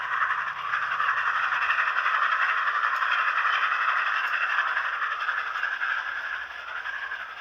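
A train in the Dead Rail video game rattles and hisses steadily as it comes to a stop, a dense mid-range clatter that fades slightly toward the end.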